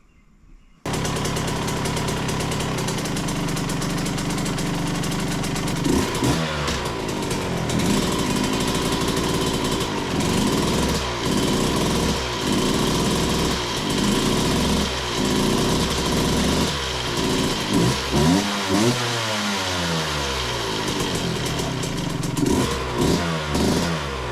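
A Suzuki RM125 two-stroke motorcycle engine running continuously at close range, a loud crisp buzzing idle punctuated by repeated rising revs and snappy throttle blips, with no talk.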